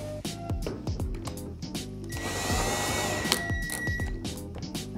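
A power drill turning a hand tap whirs in short bursts, its motor pitch rising and falling as it starts and stops, with a steadier grinding run in the middle.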